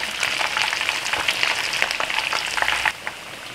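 Chicken with galangal, coated in an egg batter, fries crisp in hot oil for a Padang-style ayam goreng, giving a loud, steady crackling sizzle with popping bursts that drops off abruptly near the end.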